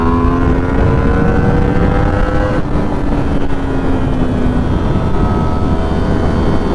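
An MT-10 motorcycle engine roars steadily through wheelies, its pitch rising and falling in long sweeps, loud and close, with no talk over it.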